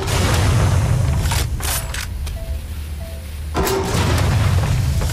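A Watch Dogs Legion target is blown up, with loud booming blasts and thuds at the start and again near the end, separated by a quieter stretch with a few faint electronic tones.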